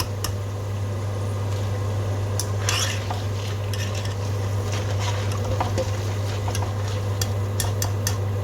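Pakoda made from boiled wheat flour frying in hot oil gives a steady, dense sizzle, with occasional sharp clinks of a utensil against the pan.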